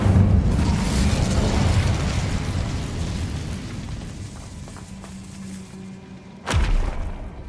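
A fire spell cast in Hogwarts Legacy: a loud rushing burst of flame that fades over several seconds, then a sharp whooshing flare near the end.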